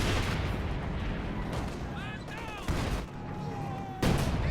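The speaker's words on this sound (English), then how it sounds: "There's this barrage." A mortar barrage in the real-time strategy game Company of Heroes 2, booming impacts rolling over one another amid battlefield noise, with someone talking over the explosions.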